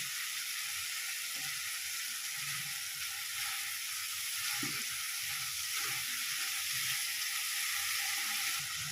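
Spice paste with turmeric powder fries in a pan for a fish curry, a constant soft hiss of sizzling oil with a few faint stirring knocks, close and even throughout.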